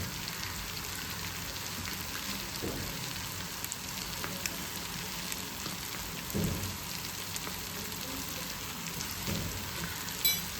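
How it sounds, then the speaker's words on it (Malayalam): Boti, a Kerala offal fry with pepper powder added, sizzles steadily in a pan with a constant hissy crackle, broken by a few soft stirring knocks, fairly quiet and continuous with no talk. "നല്ലോണം ഇത് ഫ്രൈ ആയിട്ട് വരണം കേട്ടോ"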